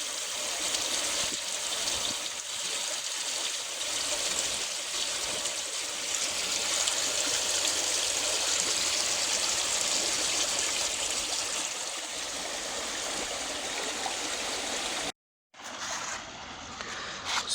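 Water siphoning and trickling steadily in a swimming pool being converted into a koi pond, a continuous close flow with a brief gap near the end.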